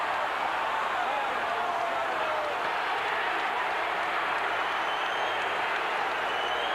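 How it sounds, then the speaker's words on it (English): A boxing arena crowd, heavyweight bout with Mike Tyson and Carl Williams, roars and boos after a first-round stoppage, a dense, continuous wash of many voices that holds steady and loud throughout. "there's some booing going on"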